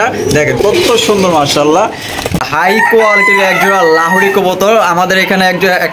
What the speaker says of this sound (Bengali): মোরগ আছে, আসলে ডাকাডাকি করতেছে